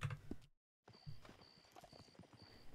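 Horse hooves clip-clopping in Red Dead Redemption 2, with a few close hoof steps at the start, a brief gap of silence, then steady clopping alongside game ambience and a faint high tone.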